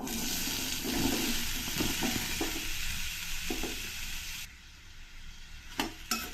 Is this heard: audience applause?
no